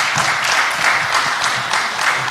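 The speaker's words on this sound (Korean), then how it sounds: "수고하셨다라고 하는 박수 한 번 더 보내주시면 감사하겠습니다" Audience applause at a church denomination's public candidate hearing, loud and close, a continuous rush of many hands clapping evenly from start to finish with no speech.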